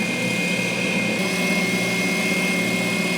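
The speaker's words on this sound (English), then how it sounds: "This spindle sander is incredible." A spindle sander works wood for custom shelves, giving a loud, steady motor drone with a constant high whine and a rough sanding hiss throughout.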